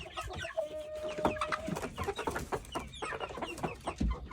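Chickens cluck steadily in a coop in the evening, a close, busy chorus of overlapping clucks and short calls with no talking.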